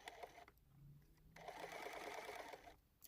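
A sewing machine stitching a fusible appliqué quilt block runs in short bursts, a fast close mechanical whir with brief pauses between runs.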